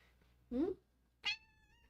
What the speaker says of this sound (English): if you haven't heard her, my cat says hi